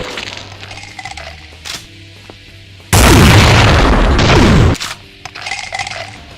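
A quad shotgun zombie in a Doom mod fires its barrels at once: one loud, roaring blast of roughly two seconds stands out from quieter game noise, with scattered clicks and thuds before and after.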